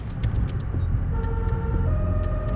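Airport emergency vehicles pull out with sirens wailing, their rising and falling tones over close engine noise, accompanied by sharp repeated clicking.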